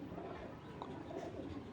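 Pigeons coo softly in a coop, low and faint, with a steady murmur of background noise.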